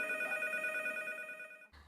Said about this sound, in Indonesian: Kemudian ada telepon dari seseorang yang berniat mengadopsi Hachiko